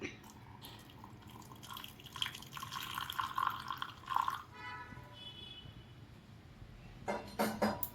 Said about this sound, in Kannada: ಬಿಸಿ ಬಿಸಿ ಕುದ್ದಿರೋ ನೀರು,